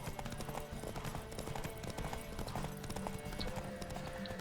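Horse hooves clip-clop steadily on the ground in The Witcher 3, a continuous rapid rhythm of close, moderately loud hoofbeats with a faint background bed of game ambience.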